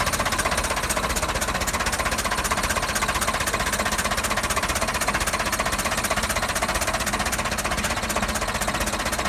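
A vintage tractor engine running steadily close by with a rapid, even chopping knock from a sticking valve, loud and unbroken throughout.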